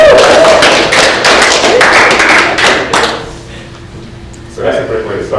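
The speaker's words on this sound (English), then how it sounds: "let's give ourselves a round of applause" A group applauds together after a workout warm-up, a dense burst of clapping for about three seconds that thins out and fades, followed by a voice.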